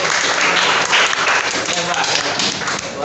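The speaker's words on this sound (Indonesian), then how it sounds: "Tepuk tangan dong." Classmates in a school classroom break into steady applause, dense clapping that fills the whole stretch at close range, with voices mixed in under it.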